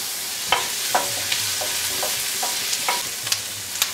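Chopped onions soften in hot oil for an Afghan clay pot lamb stew, giving a steady gentle sizzle broken by a few soft stirring clinks and taps.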